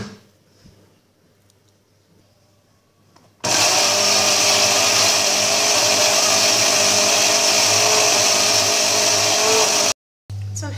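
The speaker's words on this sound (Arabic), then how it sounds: "وغادي نطحن هاد المكونات هادي" A blender grinds ice cream ingredients, a loud steady whir that starts abruptly after a few quiet seconds, runs continuously, then cuts out briefly and restarts near the end.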